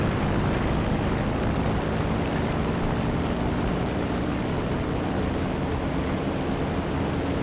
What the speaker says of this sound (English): So now I got this plane back on me.